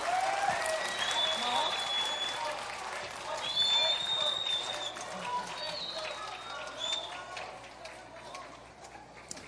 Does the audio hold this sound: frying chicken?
no